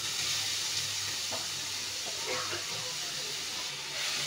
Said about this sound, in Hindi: घी हमारा गर्म हो चुका है। अब मैं इसमें ये पपीता कद्दूकस किया हुआ डाल दूंगी